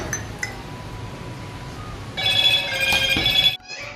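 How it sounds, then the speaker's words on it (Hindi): A telephone rings with a bright, trilling electronic tone for about a second and a half after a quieter stretch with a few faint clinks. "सपना और बैठी है, फोन आ रहा है"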